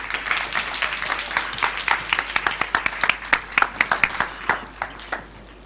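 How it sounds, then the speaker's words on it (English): A school audience at a student speaking event claps for a speaker coming on stage, a burst of individual hand claps that starts dense and thins into fewer, sharper claps toward the end, with no talking over it. "let's welcome her with a big round of applause"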